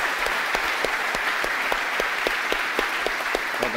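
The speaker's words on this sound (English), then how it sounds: "So give them a round of applause, please." An audience at a tech conference talk applauds steadily, a dense sustained wash of clapping with some sharper individual claps standing out.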